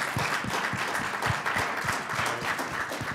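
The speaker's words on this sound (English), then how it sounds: "Give them a round of applause, please." Audience members at a Pulitzer Prizes centennial panel session applaud the panelists, a brief, steady burst of clapping from a large room with no speech over it.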